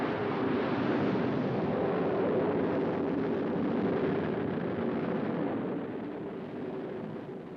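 A sounding rocket launches toward an aurora with a continuous broad roar that holds steady for several seconds and then eases slightly as it recedes, with no voices.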